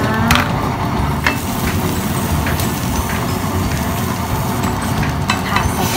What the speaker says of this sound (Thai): เดี๋ยวเรามาผัดพริกแกงพะแนงกันค่ะ